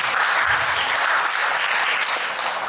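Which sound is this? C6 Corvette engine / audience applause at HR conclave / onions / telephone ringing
audience applause at HR conclave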